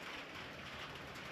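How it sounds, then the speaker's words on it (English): Rain hitting a tin roof at night, a dense, steady, hissing patter that fills the clip evenly with no pauses or talk. "you can probably hear the rain hitting the tin roof"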